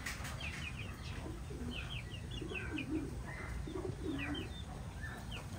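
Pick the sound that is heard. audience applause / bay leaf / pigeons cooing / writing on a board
pigeons cooing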